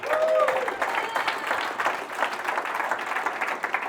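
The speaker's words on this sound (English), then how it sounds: "everyone give a round of applause for Gunnar over here." Audience of college students at a youth conference applauding for a volunteer called onstage, a loud, continuous wash of clapping with a few shouts mixed in.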